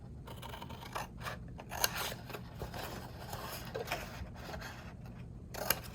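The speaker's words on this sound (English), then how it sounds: "Cut straight up to the second score line." Scissors snip through paper along a score line on a small card box envelope, a series of close, crisp cuts with short pauses between them, quiet and alone.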